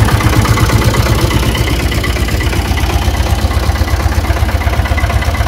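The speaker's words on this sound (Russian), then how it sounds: "Так, трактор завелся." A tractor engine idles loudly and close, a steady low chugging rumble throughout.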